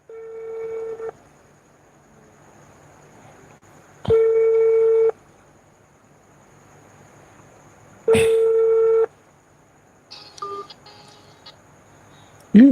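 An outgoing phone call rings on the line in evenly spaced long ring tones, with a short burst of beeps or a connection sound near the end, alone with no talk.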